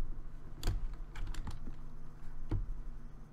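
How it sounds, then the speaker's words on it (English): Computer keyboard with the W key held down, apparently during a game: faint, quiet key clicks and clacks, a few separate taps spread across a soft background with no voices. "I'm holding the W key."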